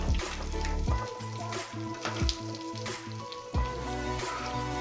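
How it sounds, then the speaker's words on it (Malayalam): Garlic, green chillies and curry leaves frying in hot oil for a desi-style chicken fry, giving a steady close sizzle with crackling bursts and occasional stirring knocks, no voices. "എന്നിട്ട് ഈ എണ്ണയിലേക്ക് തന്നെയാണ് നമ്മൾ വെളുത്തുള്ളി, പച്ചമുളക്, കരിവേപ്പില തുടങ്ങിയവ ഇട്ട് ഫ്രൈ ചെയ്തെടുക്കണം"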